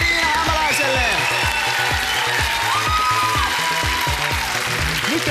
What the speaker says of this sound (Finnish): Vielä kerran kunnon aplodit Riina Hämäläiselle